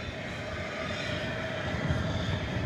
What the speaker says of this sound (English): Flight 22 to Melbourne. It's a 787-9 Dreamliner.